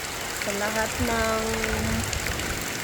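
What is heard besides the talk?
heavy rain pouring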